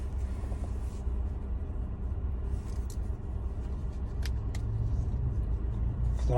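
A parked car's engine idles as a low, even rumble inside the cabin, with a few faint clicks and rustles over it.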